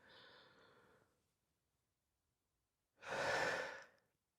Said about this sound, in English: So when I take a breath and I'm engaging my diaphragm, it's more like